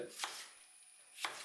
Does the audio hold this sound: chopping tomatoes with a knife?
yes